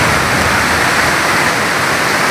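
Kewi Waterfall in Shogran roars as a steady, dense rush of falling water, loud and close, with no voices.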